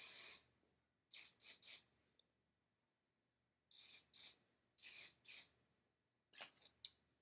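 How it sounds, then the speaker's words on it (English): Several short bursts of hairspray from an aerosol can, hissing in quick clusters of two or three with quiet pauses between, close and fairly loud. "I'm going to go ahead and spray it in."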